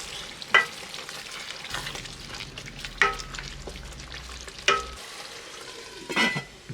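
A spoon stirs bhindi masala with salt and crushed kasuri methi in a pan: four distinct scraping strokes spaced a couple of seconds apart over a soft, constant frying sizzle, with no talking.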